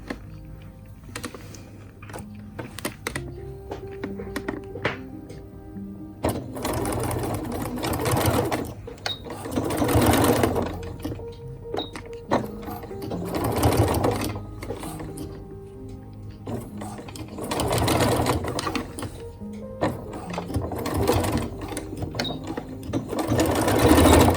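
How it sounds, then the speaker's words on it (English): A sewing machine stitches along a skirt seam in several short bursts of rapid stitching, separated by brief pauses and light handling sounds. "I'm going to go and sew in the same seam which is already here"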